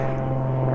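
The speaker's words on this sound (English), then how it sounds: "Thanks, plane." Propeller airplane droning overhead outdoors: a steady engine hum with strong tonal harmonics, continuous and fairly loud through the short stretch, with no talking.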